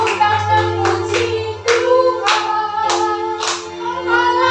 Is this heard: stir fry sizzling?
no